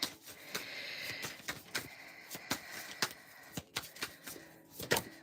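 Tarot cards are shuffled by hand in a quiet room, giving a run of quick, crisp riffling snaps and soft slides at an uneven rhythm, close and fairly faint, with no talking.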